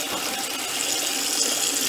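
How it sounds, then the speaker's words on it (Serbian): Cold running water splashes steadily over cooked noodles being rinsed in a sink, a continuous bright hiss of pouring tap water with no talk, close and even throughout. "potrebno je sad hladnom vodom isprati ove rezance"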